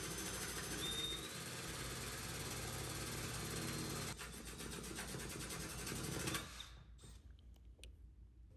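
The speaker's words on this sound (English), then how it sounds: "letting the drill and the drill bit do the work for you" A power drill bores steadily through bathroom wall tile and grout, a continuous close grinding whine that shifts partway through and then cuts off near the end, leaving quiet room noise.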